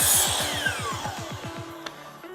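A miter saw set to 45 degrees cuts through a wooden board for a toe kick, a loud whining blade with a rapid pulsing rumble that winds down toward the end.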